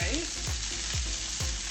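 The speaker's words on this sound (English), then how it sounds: "searing the last bit of the beef here" Beef sears in a hot pan with a steady, close sizzle and frying hiss, punctuated by a few soft stirring or turning clicks, with no talking.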